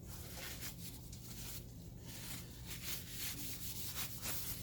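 The metal chassis of a Hammond AO28 preamplifier is rubbed clean with soft, repeated scrubbing strokes that sound close and quiet.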